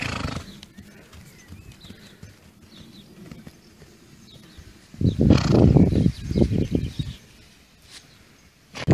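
Ponies' hoofbeats and movement in bursts as they run around, with rustling and a loud, close flurry of activity midway, over soft outdoor background noise.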